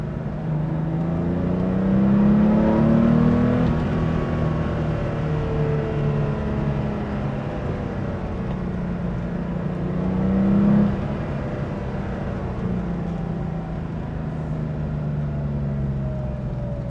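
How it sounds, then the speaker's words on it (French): A Porsche 911 Carrera 3.2 flat-six pulls steadily while driving, a continuous close engine drone with two swells of rising revs, heard alone without talk. "on sent ce moteur. Il y a du couple, hein, assez sympa."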